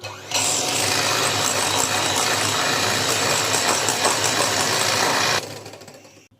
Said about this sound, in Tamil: முட்டையோட மஞ்சள் கரு சேர்த்துட்டு நல்லா பீட் பண்ணிக்கலாம்.